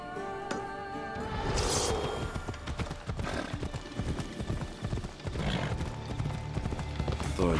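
Steady clip-clop of horse hooves at a brisk riding pace in Assassin's Creed Odyssey, continuous and close, with a short whinny early on and game ambience underneath.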